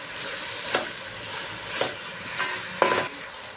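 Sliced onion frying in hot oil with asafoetida for veg pulao, a loud, continuous sizzle close by, punctuated by four spaced stirring scrapes, the last one sharpest.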